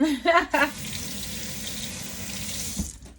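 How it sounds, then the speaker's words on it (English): Tap water runs steadily into a kitchen sink for hand washing, a continuous close hiss after a brief voice at the start, ending with a soft clunk. "let's start by washing my hands"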